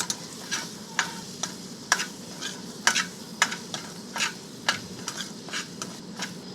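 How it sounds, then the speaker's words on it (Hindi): Chopped onions dropped into ghee with garlic and ginger paste sizzle steadily for a curry, with a string of sharp stirring clicks and scrapes of a spoon against the pan at close range. "उसी में बारीक कटे हुए प्याज डाल देंगे।"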